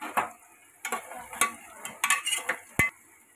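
A utensil scrapes and taps in a pan as fried onion and halved tomatoes are stirred, making a few short close knocks and rasps over a faint sizzle.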